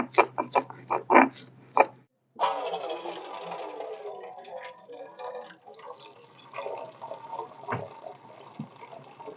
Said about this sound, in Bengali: রসুনগুলো একটু থেতো করে নিচ্ছি,